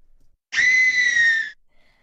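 A woman's scream sample from the Fairlight Sound Library, a single sustained high-pitched shriek lasting about a second, loud and clean against silence.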